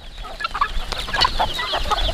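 Chickens on a farm cluck steadily, with several birds calling over one another at close range. A few louder, sharper calls stand out over a continuous low hum of flock noise.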